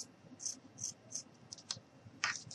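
Scissors snipping through cardboard while building a miniature cardboard baby crib, a quiet run of short, crisp cuts spaced out in an irregular rhythm, close and faint with no talking.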